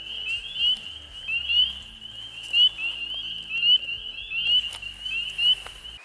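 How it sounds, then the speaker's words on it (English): A pickerel frog calls at night in a wet outdoor spot, a steady high trilling chorus of frogs running through the whole stretch with soft rustles and taps close by. "This is the pickerel frog."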